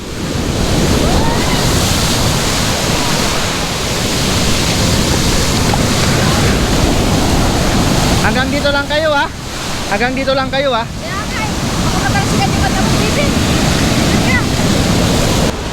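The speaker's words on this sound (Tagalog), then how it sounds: "Sobrang alon." Big ocean waves crash and roar continuously at a Baler beach resort, loud and close with heavy wind buffeting the microphone, while someone speaks briefly over the surf.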